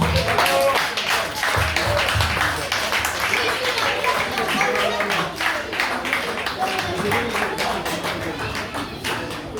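An audience at a church-style gathering for the Adjumani couple claps together for close to ten seconds, a dense patter of hand claps mixed with voices talking over it and gradually thinning toward the end.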